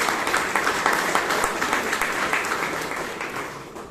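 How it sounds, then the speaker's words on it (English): An audience at a Toastmasters meeting in Bangalore gives a round of applause for a speaker and evaluator, a moderately close patter of many hands with a few sharper claps, gradually fading toward the end. "give a huge round of applause to the evaluator and the speaker"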